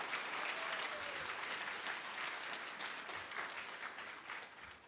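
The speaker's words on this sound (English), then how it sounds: "a thunderous round of applause for your 2024 Kid Governor Cristiano Almeida" An inauguration-day crowd applauds the newly sworn-in Kid Governor, a continuous, full room of clapping at moderate distance, sustained throughout without talk.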